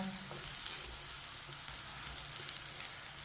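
A paratha fries in a little oil on a pan, giving a steady, even sizzle that crackles softly and stays close throughout with no voices.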